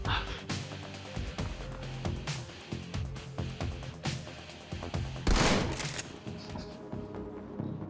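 Shotgun blasts from the video game Shadowrun Returns, several loud broadband bursts spread across the clip amid game music and other combat noise, one especially heavy burst near the end.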